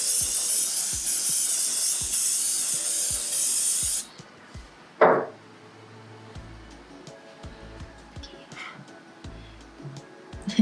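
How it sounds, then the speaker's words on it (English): An aerosol can of fixative sprays onto a drawing in one loud, steady hiss lasting about four seconds, then cuts off, leaving quiet room noise with a brief clatter. "Give it another spray."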